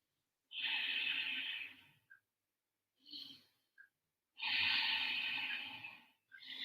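Slow, deep breathing during an all-levels yoga flow, long airy inhales and exhales close to the microphone, with short pauses and small clicks between breaths.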